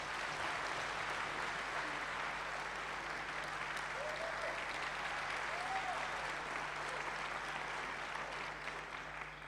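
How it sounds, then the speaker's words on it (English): Concert audience applause at a South African Navy gala concert, steady broad clapping filling the hall, heard at a distance under a low hum, with faint cheers rising briefly mid-way. "Another round of applause, ladies and gentlemen."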